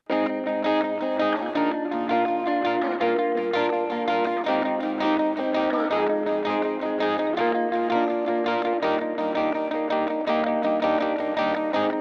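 Several distorted, filtered guitar parts stacked together, chugging steadily with chorus-like shimmer and echo, dense and continuous throughout.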